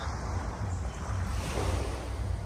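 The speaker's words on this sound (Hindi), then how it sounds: "समुद्र के बगल में चलने का अलग ही मज़ा आ रहा है।" Sea waves washing steadily onto a beach at night in Dubai, a continuous broad surf roar with wind buffeting the microphone, no voices present.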